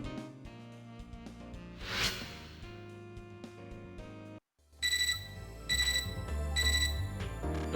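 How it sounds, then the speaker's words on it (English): An iPod alarm goes off during a Fate/Extra gaming session, a bright repeating electronic chime pattern that cuts in after a brief gap in the game music, moderately loud and near. "My iPod is going off again."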